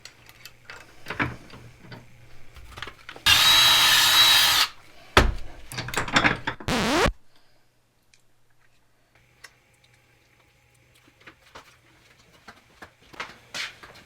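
A power drill bores a pilot hole into a plumbing fitting for a DIY electrical terminal, giving a loud, steady whine of about a second and a half, then a second shorter burst, with quiet clicks and handling noise afterward.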